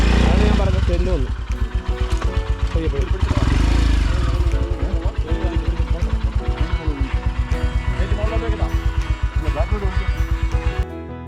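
A motorcycle climbs a steep forest track near Vattavada, Munnar, its engine loud and close, revving hard and then settling into a labored, pulsing chug as it pushes uphill.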